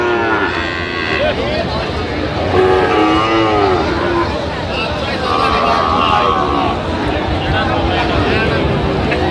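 A Sahiwal calf moos in drawn-out calls amid a noisy outdoor cattle market scene, with people talking nearby under a steady background rumble.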